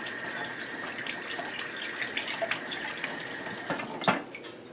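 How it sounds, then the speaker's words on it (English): A sugary hand is rinsed under a running kitchen tap, with steady close water flow, splashing as the hand moves through the stream, and a brief gush near the end. "Now I'm going to rinse my sugary hand."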